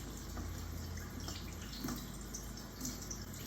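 Running water rinses marinated pork ribs for teriyaki, a steady close wash of flowing tap water with slight splashing changes as the slabs are turned, no talking.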